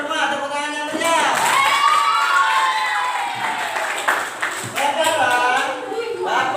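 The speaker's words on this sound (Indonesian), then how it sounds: "tepuk tangan yang meriah" A classroom of pupils claps and cheers lively, a rhythmic burst of applause mixed with children's shouting and overlapping voices, fading and swelling over several seconds.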